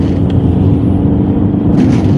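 A turbocharged car engine pulls hard in fifth gear from low revs, giving a deep, steady rumbling drone heard from inside the car, loud and unbroken for a couple of seconds.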